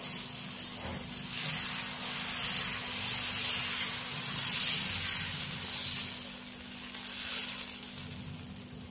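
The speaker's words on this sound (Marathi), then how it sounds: "आता आपल्याला तव्याला थोडंसं पाणी घालून सनी पुसून सनी डोसा करून घ्यायचा आहे।" Chana dosa batter sizzles on a hot griddle, making a steady soft hiss that swells and fades in gentle waves, close by with no voices.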